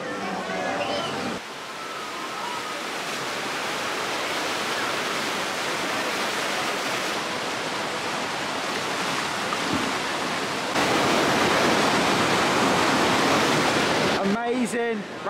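Rushing white water roars loud and steady on a rapids ride at PortAventura theme park, growing even louder toward the end before a brief burst of other sound.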